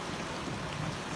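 Heavy rain pours during deep flooding, with wind and water churning in a steady, dense wash that stays loud and constant, no voices heard.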